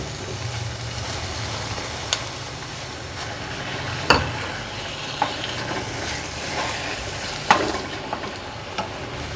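Pumpkin halwa with khoya being stirred in a pan, a soft continuous scraping and light sizzle with a few sharp clinks of the spoon against the metal scattered through.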